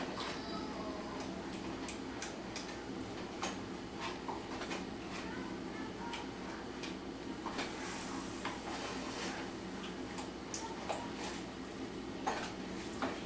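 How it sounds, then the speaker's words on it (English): A spoon stirs a mixture of ranch dressing and garlic in a bowl, with repeated soft scraping and clinking against the dish, steady and close over a low background hum. "And give that a good stirry stir."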